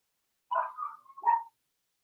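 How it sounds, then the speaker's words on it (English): Neighbor's puppies bark in the background, a single short yipping bark-and-whine pair, faint and distant against otherwise silent surroundings. "someone's talking about the puppies in the background"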